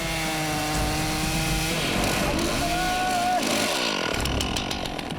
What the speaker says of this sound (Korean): 엔진톱으로 나무 하나 베는데 걸리는 시간은 단 5초.